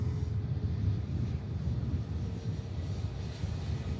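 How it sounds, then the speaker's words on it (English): An EasyJet Airbus A321neo airliner taxiing at Manchester Airport gives a steady low engine rumble with wind buffeting the microphone, continuous and moderately loud, with no talk over it. "EasyJet A321 Neo. Long plane. Looks cool, though. That's a fast taxi as well."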